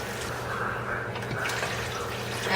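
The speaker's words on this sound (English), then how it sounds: "3 cups of water into the pot" Three cups of water pour steadily into a cooking pot holding cooked onions, a continuous, moderately soft rushing splash throughout.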